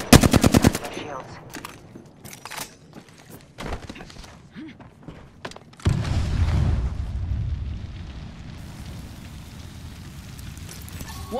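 Apex Legends gameplay gunfire opens with a rapid automatic burst, then scattered single shots and a heavier boom followed by a rumbling wash of battle noise, loud and up close.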